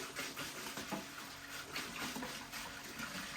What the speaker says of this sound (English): Turn the water on just a hair.